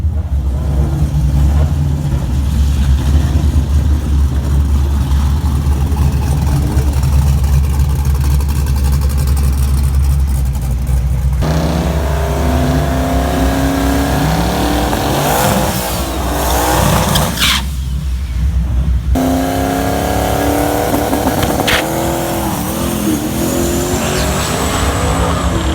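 A turbocharged 5.3-liter Camaro with a 107 turbo makes a loud drag-strip run, its engine roaring and surging, with shifts and rising engine pitch, ending in a distant fading whine.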